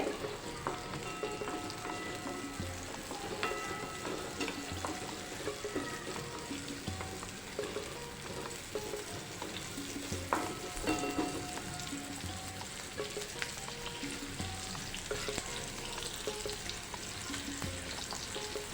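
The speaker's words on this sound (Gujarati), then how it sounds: "આ ડુંગળીને આપણે તેલમાં સાતળી લેવાની છે તેનો થોડો કલર બદલાય ત્યાં સુધી આપણે તેને સાતળવાની છે" Chopped onions sizzle and crackle steadily in hot oil in a home kitchen pan, a continuous dense frying hiss with occasional louder pops and stirring scrapes, close and uninterrupted for the whole stretch.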